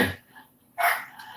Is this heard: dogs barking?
yes